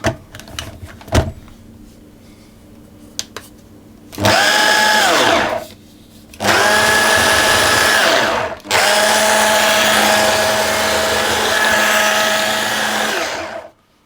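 A food processor blitzes flour and salt for Linzertorte dough in three loud, steady whirring bursts, the last and longest running about five seconds, with a few light clicks before the motor starts.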